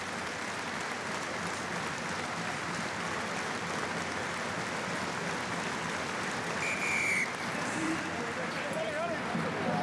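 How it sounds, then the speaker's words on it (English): Crowd applause and cheering fill a rugby stadium at a Top 14 match between Clermont Auvergne and Stade Francais, a dense steady roar throughout with a whistle and commentary on top. "The applause is over."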